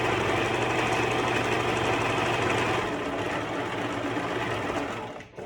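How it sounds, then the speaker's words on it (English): A sewing machine stitching around the edges of a fabric bag runs steadily at close range, a fast continuous mechanical whirr and clatter that slows and stops at the very end. "now I'm going to sew around the edges"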